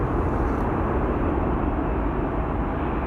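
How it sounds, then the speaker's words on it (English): A KLM passenger jet on flight 1292 from Billund arriving at Amsterdam Schiphol gives a loud, steady, close engine roar that fills the whole stretch, with no voices. "The next arrival is going to be KLM flight 1292, arrival from Billund, which is right over there."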